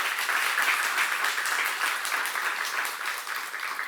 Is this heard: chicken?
no